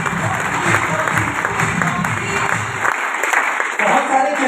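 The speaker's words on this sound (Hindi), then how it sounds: "एक बार इनके लिए भी जोरदार तालियां होगा।" Loud crowd applause at a network marketing event, dense continuous clapping with a steady hum behind it, briefly thinning before swelling again.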